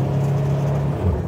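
A Buick Grand National turbo engine gives a brief, steady, close rumbling whir that rises slightly near the end.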